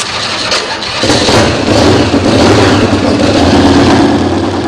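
Custom-built motorcycle engine firing up and revving on a track, a harsh rumbling roar that jumps in after a brief start and holds loud and close with no talk.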